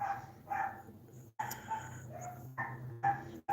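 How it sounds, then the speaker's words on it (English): Dog barking next door at a neighbor's apartment, a series of sharp barks in uneven bursts, somewhat muffled and moderately distant, with short yips between. "that's not my dog. I live in an apartment. The dog is next door"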